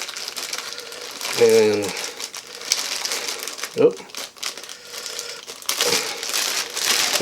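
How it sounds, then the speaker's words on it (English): A plastic bag of shredded cheese is pulled open while making bean and cheese burritos, giving short crinkling bursts among kitchen noise as a person talks. "get that bag open."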